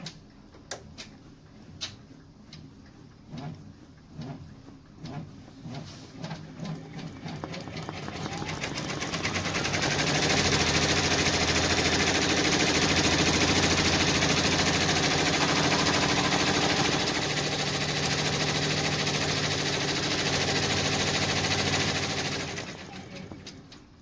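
An embroidery machine stitching a placement line for a grass piece, starting with slow separate ticks that speed up into a steady, close whirring hum, running for about twelve seconds before winding down.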